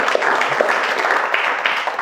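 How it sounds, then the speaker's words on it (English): Applause from the audience at a cyber security and risk management event, a steady wash of many hands clapping at once that holds evenly throughout with no talk over it. "Round of applause for you guys."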